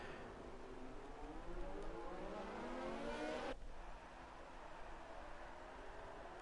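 F1 cars on the formation lap of the Austrian GP in a racing video game, a sustained engine drone that rises in pitch as it accelerates and then cuts off abruptly, faint and steady underneath.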